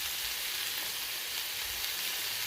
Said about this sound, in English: We're going to cook this all through in the pan.